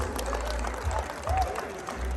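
Applause from an audience at the Vegas Auto Salon car show, a steady wash of clapping and crowd noise, moderately loud and brief, with a voice faintly underneath.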